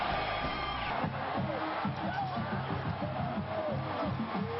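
A crowd of over 100,000 fills Texas Memorial Stadium before kickoff of the 2009 Texas season opener against ULM, a broad, distant murmur and roar with faint cheers, under a voice talking.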